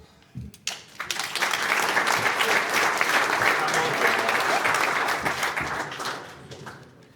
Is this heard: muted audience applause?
yes